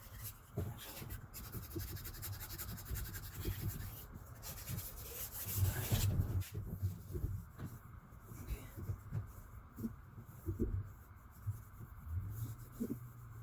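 Fine 1500-grit sandpaper rubbed across the gasket surface of an aluminum cylinder head from a 3.5L EcoBoost engine in a Ford Explorer SHO, heard as soft, uneven scratching strokes up close at moderate level.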